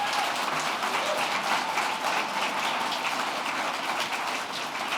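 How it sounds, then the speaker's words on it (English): A live audience at a youth leadership talk in Calgary breaks into sustained applause, a dense, even wash of many hands clapping that holds steady for several seconds without pause. "I think they deserve a round of applause."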